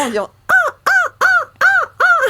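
A person imitates a seagull's cry at a live seagull-call competition, giving a short opening squawk followed by five loud, evenly spaced, harsh descending calls close up.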